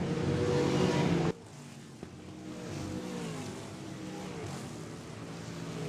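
Late model stock cars racing on the Wagner Speedway dirt track, a loud engine roar that cuts off abruptly, then a quieter, farther engine drone that swells and fades as cars pass.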